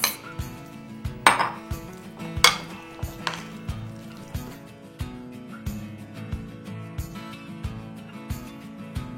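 A spoon clinks and scrapes against a bowl as spinach is mixed into a ricotta cheese filling, a steady run of sharp knocks close up.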